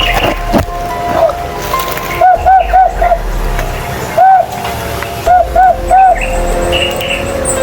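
Short, clear bird calls repeat in clusters of two to four notes, with a single call in between, over steady outdoor background noise and no talk.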